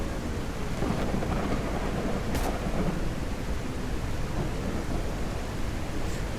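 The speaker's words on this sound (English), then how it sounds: "I like the idea of this storm being so loud that the zombies can't hear me either" Loud thunderstorm in the zombie survival game SurrounDead, with a steady roar of heavy rain and rolling thunder filling the whole stretch, a sharper crack near the middle, no voices.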